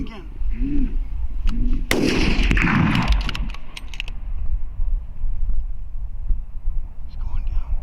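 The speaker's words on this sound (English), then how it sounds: "Shoot him again." A loud rifle shot booms close by during a brown bear hunt in Alaska, followed by a mechanical clack of the action and a few lighter knocks over windy outdoor noise.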